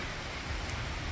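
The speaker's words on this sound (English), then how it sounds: "but it's still raining, so" Steady rain hisses softly and evenly, a faint continuous wash of drops with no voices.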